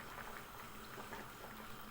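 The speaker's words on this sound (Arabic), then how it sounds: "الفول بقى ابتدى يغلي معانا" Fava beans boiling in a pot on the stove, a steady, close bubbling and rolling simmer with no talk.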